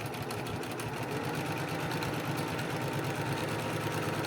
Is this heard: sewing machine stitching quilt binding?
yes